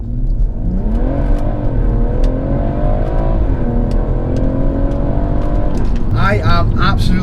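A car on lightweight wheels pulls away from a standstill and accelerates hard, its engine note climbing steadily through the revs and rising again after a gear change, loud and heard from inside the cabin.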